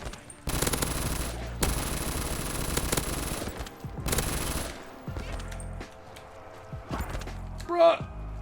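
Bursts of light machine gun fire in a zombies video game on a parkour wipeout map, several long sustained volleys over the first five seconds, then scattered shots and game noises, with players talking over it.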